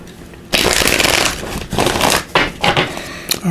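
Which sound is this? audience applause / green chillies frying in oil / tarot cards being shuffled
tarot cards being shuffled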